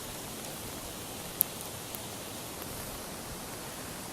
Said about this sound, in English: it's a full downpour of sleet.